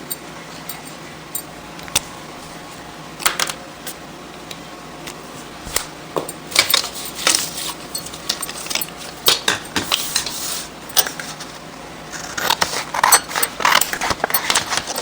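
Blouse fabric cut with scissors on a tabletop in irregular clusters of short snips and clicks, close and moderately loud with quiet gaps between bursts, no speech.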